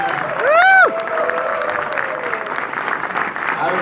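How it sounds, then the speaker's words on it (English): Audience at a gathering honoring a community leader breaks into dense, sustained applause, with a brief whistle-like tone near the start, steady crowd clapping filling the room at close range. "Give him a good big round of applause."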